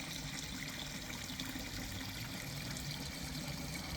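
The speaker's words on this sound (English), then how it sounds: "Lovely flowing water." Water flows steadily in a Chinese water garden, a continuous soft, even trickle and splash with no other sounds.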